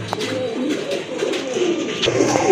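Black Bombay pigeons coo close by in low, rolling calls that repeat through the clip, with faint movement noises in the background.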